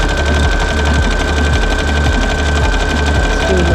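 A sewing machine stitches a buttonhole in rapid, steady mechanical chatter, loud and close throughout, running continuously with no talk.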